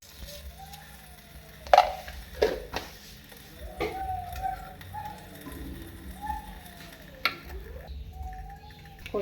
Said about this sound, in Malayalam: വറുത്ത എണ്ണ ഒഴിച്ച് കടുക് പൊട്ടിക്കാം കേട്ടോ.